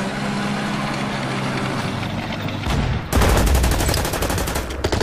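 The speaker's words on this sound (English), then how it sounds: "I'm gonna hit that T-26 with the artillery." Artillery shells fire on a T-26 tank in the Order of Battle Winter War strategy game, loud dense blasts building into a rapid volley of booming impacts, with no talk.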